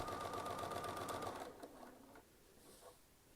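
Sewing machine stitching a quilt medallion after a bobbin hiccup, a quiet run that stops after about a second and a half, followed by faint clicks and handling sounds.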